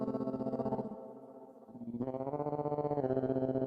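A fuzz-distorted guitar playing sustained chords and notes, thick and buzzy with a brief quieter dip in the middle, no voices.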